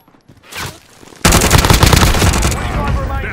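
Loud, close automatic gunfire erupts in Call of Duty Warzone Resurgence: a dense rapid burst of shots lasting over a second, following a quieter moment with a few faint pops.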